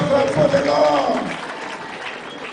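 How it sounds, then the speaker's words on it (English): A church-style crowd at a political alliance launch clapping in offering to the Lord Jesus Christ, a loud mass of clapping under singing or chanting voices, strongest at first and easing off slightly. "I invite you to give a big clap offering to the Lord Jesus Christ"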